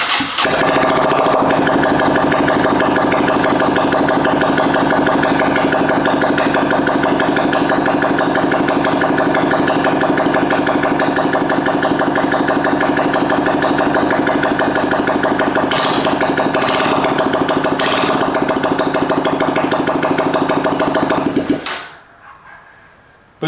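A 2022 Honda Grom motorcycle with no exhaust fitted, running on a PCX150 injector, drones loudly and steadily at close range for about twenty seconds, then cuts off abruptly.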